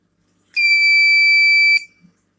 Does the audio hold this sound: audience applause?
no